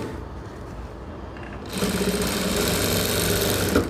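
A sewing machine running steadily while putting an edge stitch along a blouse seam, starting quietly with light mechanical clatter and then jumping to a louder, continuous rapid whirring hum for the rest.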